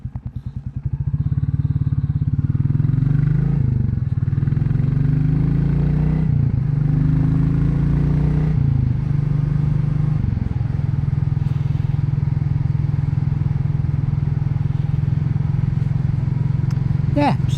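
A Royal Enfield Classic motorcycle being ridden, its single-cylinder engine thumping loudly and close throughout, rising and falling through gear changes before settling into a steady cruise.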